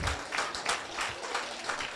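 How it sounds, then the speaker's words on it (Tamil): A standing ovation at a Thirukkural festival prize ceremony in Montreal: a crowd applauds steadily, a dense wash of clapping from many hands with no one speaking. "எழுந்து நின்று ஒரு பலத்த கரகோஷம் கொடுக்குமாறு அன்புடன் கேட்டுக்கொள்கிறேன்."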